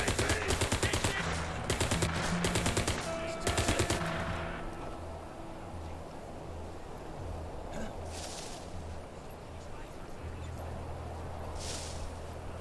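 Rapid bursts of automatic gunfire rattle out in the WW2 realtime stealth tactics video game War Mongrels, loud and close for the first few seconds and then fading into a low rumbling ambience with occasional faint shots.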